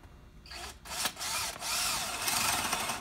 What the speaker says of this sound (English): and you drill into your surface.